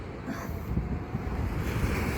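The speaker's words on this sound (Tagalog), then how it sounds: "lakas ng alon guys dito sa ating resort" Strong ocean waves surge continuously onto a white-sand beach at Pozorobo Beach & Resort in Santa Ana, Cagayan, a loud, steady roar mixed with wind buffeting the microphone.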